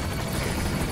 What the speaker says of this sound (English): We got the helicopter.